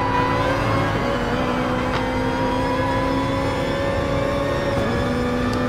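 Mazda race car engine in a racing video game at Spa-Francorchamps, a steady sustained drone with whining harmonics that shift gradually, constant and fairly loud throughout with no talking.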